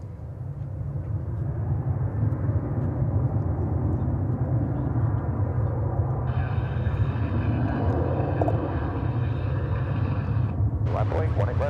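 An American Airlines jet taking off from runway 18 left at Dallas/Fort Worth Airport: a steady, heavy engine roar holds throughout, with a radio voice briefly heard over it partway through.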